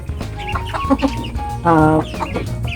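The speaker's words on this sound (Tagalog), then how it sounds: "Meron din kami dito sa kulungan yung 4 na sisiw naman to." Chickens cluck repeatedly in a cage holding young chicks, with a louder, harmonic-rich call in the middle over a steady background of close, busy fowl chatter.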